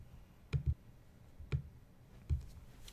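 Three sharp computer mouse right-clicks, close and quiet, spaced about a second apart with near silence between them.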